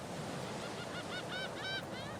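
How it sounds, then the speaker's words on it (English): Ocean waves wash steadily along the damp, rainy Skosglen coast in Diablo 4, a soft continuous surf, while a series of bird calls grows louder and clearer toward the end. "So yeah, we have the waves."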